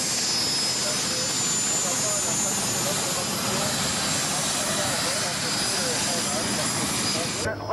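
An Extra aerobatic airplane with a 300-horsepower engine during a 1993 flight display at an air base meeting, its engine a loud continuous roar filling the whole stretch with no pauses.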